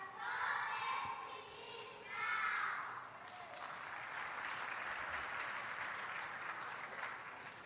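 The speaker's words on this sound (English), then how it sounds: "give them a big round of applause" A crowd claps and cheers in bursts, swelling twice before settling into steady, sustained applause.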